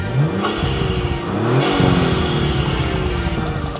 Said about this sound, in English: Just give it a couple free revs real quick.